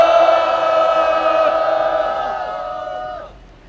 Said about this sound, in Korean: 힘차게 함성 지르면서 손 한번 흔들어 주시죠